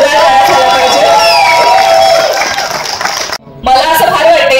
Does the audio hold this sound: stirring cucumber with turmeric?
no